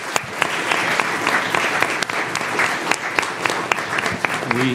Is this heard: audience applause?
yes